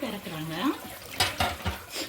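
A few sharp metallic clanks as the lid of an electric rice cooker holding prawn curry is lifted and set aside, just after a brief voice.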